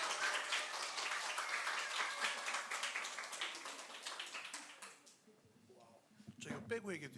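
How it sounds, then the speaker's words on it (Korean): A church congregation gives welcoming applause to a guest missionary at a Sunday service, a dense wash of clapping over the first five seconds that fades out, followed by someone speaking. "박수로 우리 선교사님 모시도록 하겠습니다."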